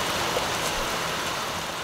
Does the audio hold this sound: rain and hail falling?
yes